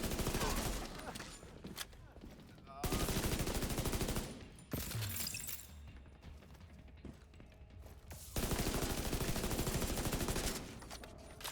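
Rapid bursts of gunfire from The Division 2 video game, loud and repeated in several long volleys with brief pauses between them, alongside mechanical weapon clicks.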